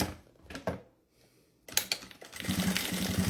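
A sewing machine stitches a seam on fabric for a makeup holder, its needle tapping in short bursts, then a pause, then a faster continuous run of rapid mechanical clatter close up, with no talk.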